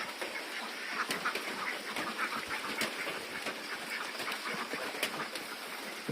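Ducks on a duck farm keep up a steady, dense chorus of quacking and chatter from many birds at once, moderately close, with no talking.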